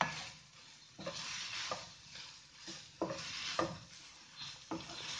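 Coriander and turmeric powder are stirred into a frying pan for mini samosa filling, a soft continuous sizzle overlaid by regular scraping strokes of a spoon about once a second, close and fairly quiet.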